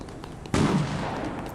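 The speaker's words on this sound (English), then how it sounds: "there's some gunfire close by." Gunfire in the Fortnite battle royale video game, one sharp, loud shot with a booming low tail, following faint distant pops.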